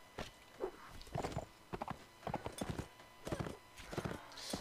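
Horse hooves clatter in the medieval combat video game Mount and Blade Warband, a busy run of clip-clop beats with neighing and chatter mixed in, fairly close and moderately loud.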